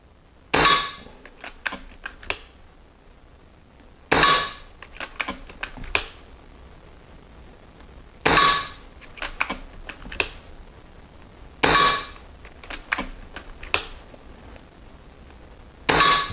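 An air gun firing diabolo pellets into ballistic gelatin, four sharp shots spaced about four seconds apart, each followed by a few quick mechanical clicks of reloading, close and with no speech.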